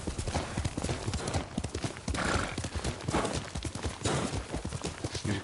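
Horse hooves in a PS4 video game: a rapid, continuous clip-clop of galloping hooves, close and prominent, with a brief whinny and faint game voices mixed in.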